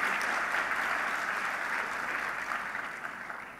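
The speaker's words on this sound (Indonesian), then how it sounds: "tolong berikan aplaus untuk bapak dan ibu antum sekalian" Sustained audience applause at a graduation ceremony, a steady wash of clapping from a large crowd that slowly tapers off.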